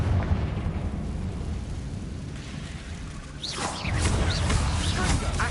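Confringo fire spell detonating in the Hogwarts Legacy video game, a rumbling burst with crackling debris and a swelling roar near the end, loud and close with no voices.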